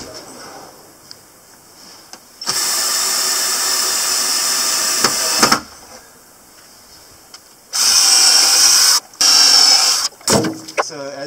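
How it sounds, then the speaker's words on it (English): A power drill bores at an angle up into an awning beam from below in two long, loud, whining bursts of about three seconds each, separated by quieter pauses with small handling clicks. "you just drill them at an angle from the bottom"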